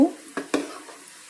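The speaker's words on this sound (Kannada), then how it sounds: "ಇನ್ನು ಸ್ವಲ್ಪ ಫ್ರೈ ಆದರೆ ಸಾಕು" Spicy cashews fry in hot oil in a very brief close snippet: a loud opening sizzle followed by two sharp scraping stirs.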